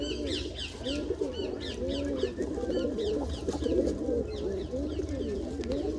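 Lalsara pigeons peck at feed and coo nearby, with repeated soft throaty coos overlapping in a steady rhythm alongside brief higher chirps, moderately quiet and without talking.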